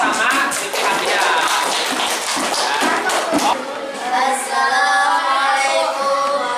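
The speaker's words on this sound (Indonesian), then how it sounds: "silakan tepuk tangan buat Maida sama Siti Hamida" Classroom applause for two students: a few seconds of scattered, fairly close hand claps from a small group, fading as voices take over.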